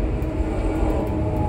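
Amtrak 20 passes with Norfolk Southern freight locomotives on the head end, rebuilt AC44C6M NS 4569 and SD70ACe NS 1139, giving a loud, steady rumble and rolling roar with no break.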